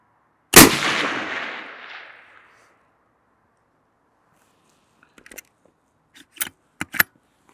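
A rifle shot cracks once, loud and sharp, during long-range hunting practice at a shooting school, then rings out in a long fading echo. Several seconds later come a few short metallic clicks and clacks.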